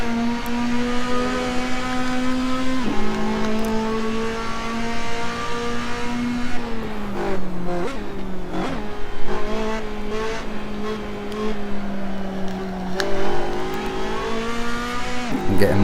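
A race car engine in the Assetto Corsa racing game drones loud and close, pitch holding then dropping and climbing through gear changes, with brief tire squeal and rapid downshift blips midway.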